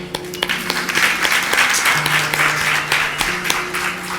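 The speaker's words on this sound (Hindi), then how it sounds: "आप भी तो ताली बजाते हैं, हम भी ताली बजा सकते हैं आपके लिए।" A seated audience at a spiritual discourse gathering in Vrindavan claps steadily and fairly loudly, a dense wash of hand claps that lasts throughout with no pause.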